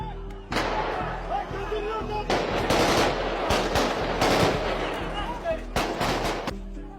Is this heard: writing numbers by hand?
no